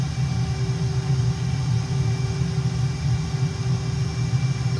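A simulated F-117 jet's engines at full throttle in Microsoft Flight Simulator, sitting on the runway near Varazdin, Croatia, as a steady, loud, low rumble with a faint high whine that holds constant throughout, no voices over it.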